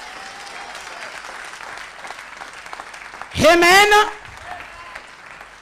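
Church congregation breaks into a short, loud burst of applause and cheering during a French-language sermon, rising suddenly over a preacher's ongoing speech and fading after about a second.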